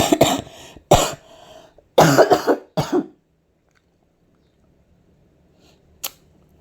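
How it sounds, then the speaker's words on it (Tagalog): Several harsh coughs close by, coming in quick bursts over about three seconds, then near silence with one faint short sound later. "Grabe akong ubo guys"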